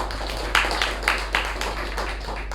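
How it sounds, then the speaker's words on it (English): An audience at a Toastmasters meeting gives applause for the general evaluator: a thin scatter of sharp hand claps, several distinct strikes spaced out over a faint room hum, fairly quiet overall. "Please put together a big round of applause for our general evaluator for today, DTM Udanka."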